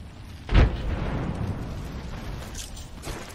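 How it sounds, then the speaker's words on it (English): A thermite grenade goes off in the game Apex Legends: one sharp, close blast with a deep thump, followed by a steady burning hiss that fades slowly, and a faint pop near the end. "Throwing thermite grenade."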